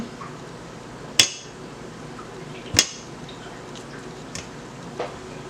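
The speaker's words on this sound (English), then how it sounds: "So we're gonna slice our breadfruit." A knife cuts through breadfruit in a home kitchen for Barbados pickle, giving two sharp clicks of the blade against a surface, then softer taps, close and alone with no talk.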